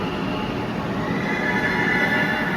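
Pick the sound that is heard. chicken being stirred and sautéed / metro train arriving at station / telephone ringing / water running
metro train arriving at station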